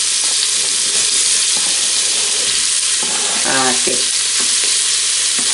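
Diced zucchini and two garlic cloves sizzle loudly in a pot as they are stirred, with a constant frying hiss and scraping stir strokes, plus a brief spoken word near the end.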